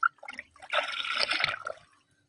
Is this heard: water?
yes